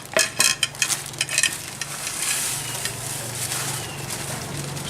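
Breadcrumbs for fried chicken are shaken through a sieve in a quick series of rhythmic rattling taps, then settle into a soft, continuous rustle.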